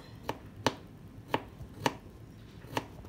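Knife chopping a garlic clove on a cutting board, five or six crisp distinct taps spaced about half a second apart, close and clear with no talking.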